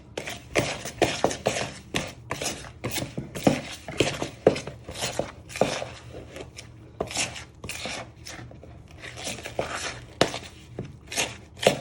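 Knife scraping and chopping through pie pastry dough in a bowl as water is mixed in for a lemon meringue pie, a rapid irregular series of close scrapes and clinks against the bowl.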